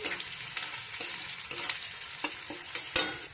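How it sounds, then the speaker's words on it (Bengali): Onions frying in a pan for a fish curry with vegetables, with a steady broadband sizzle and scattered clicks from a utensil stirring them. The stirring is close and moderately loud, and nobody speaks. "পেঁয়াজটা লাল লাল করে একটু ভেজে নেবো"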